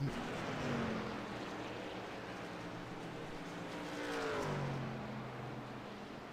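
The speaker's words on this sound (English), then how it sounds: "That truck does not sound well at all." A race truck engine at Sonoma revs in the distance, running poorly, rising and falling unevenly with a rough, sputtering note amid steady background rumble.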